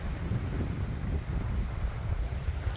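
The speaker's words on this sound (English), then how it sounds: "Windy today." Wind gusts across the shore of Lake Ohrid, buffeting the microphone with a continuous low rumble and breathy roar at close range, unbroken for the whole stretch.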